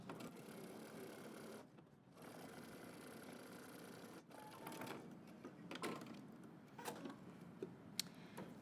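A sewing machine stitches along an invisible zipper in short bursts with brief pauses between runs, quiet and close, with no voices.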